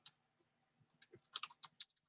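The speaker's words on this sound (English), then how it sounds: "so I'm going to keep typing" Typing on a computer keyboard while entering an address, a quiet scatter of separate key clicks that speeds into a denser burst of sharp taps, close and alone.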